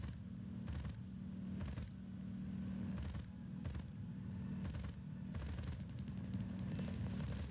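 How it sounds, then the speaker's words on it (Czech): Machine gun fire aimed at an aircraft in the flight combat game War Thunder: faint, repeated short bursts over a steady low engine drone, spaced about every second, with no talking. "střílí po nás taktéž, střílí po nás"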